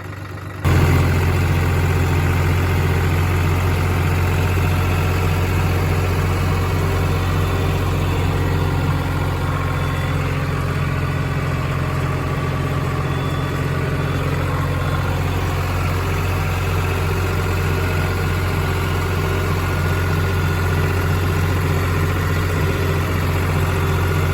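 A farm tractor's engine idles steadily close by, a deep continuous rumble with a constant low hum that barely changes for the whole stretch, with no talk.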